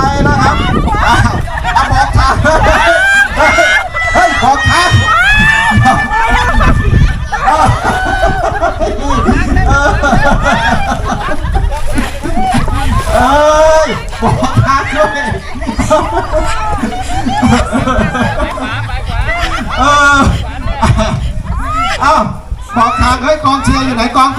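Spectators crowd a canal-side boat race, a loud, continuous babble of chatter, laughter and shouts with a commentator talking over the din.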